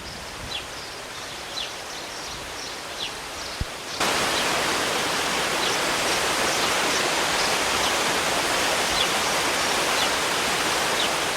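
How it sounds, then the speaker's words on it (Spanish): A waterfall in the gardens of a Galician pazo, fed by a river crossing the estate, makes a steady broadband rush that starts faint with distant bird chirps and then swells suddenly into a loud, continuous roar. "Pocos jardines del mundo cuentan con su propia cascada."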